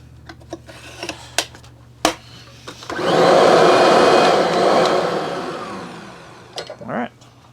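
A Kirby upright vacuum cleaner runs after a switch repair, a loud rising roar that holds for several seconds between handling clicks and knocks, then cuts off, with brief speech at the end.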